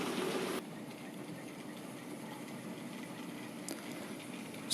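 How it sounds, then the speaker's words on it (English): A model coal train with mixed Hornby and Bachmann wagons rolls past on a model railway, giving a steady close rumbling run throughout. "So as the coal train goes past"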